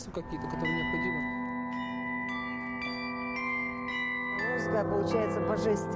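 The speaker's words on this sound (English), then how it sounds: "Our bell tower has a bila of 200 kilograms" A large struck bila, a 200-kilogram metal bell-tower instrument, rings out like a bell, with several blows in a steady rhythm and deep tones that linger and overlap.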